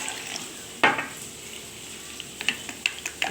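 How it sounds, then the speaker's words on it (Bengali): Yogurt thinned with a little water is whisked in a bowl for a spice paste: one sharp clatter, then a quiet pause, then a run of quick light clicks and scrapes, over a faint steady sizzle. "দইটা ভালো করে ফেটিয়ে নিচ্ছি।"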